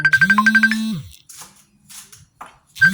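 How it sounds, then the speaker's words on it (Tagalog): A phone rings with an incoming call during morning breakfast cooking, a loud close electronic ringtone of bright repeating tones that stops, goes quiet briefly, then starts again. "na-distract ako, may tumawag kasi"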